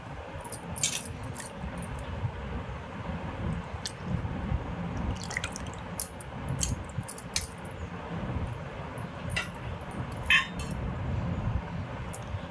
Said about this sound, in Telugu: బాగా నీట్గా కడిగేసుకొని రెండు మూడు సార్లు మాకు ఖచ్చితంగా కడగాలండి